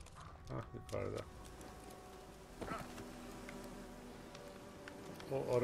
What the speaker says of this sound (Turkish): O arı kovanı